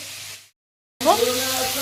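Carrots and potatoes sizzle in a pan with a spice tempering, loud crackling frying that cuts out for half a second and then resumes close up.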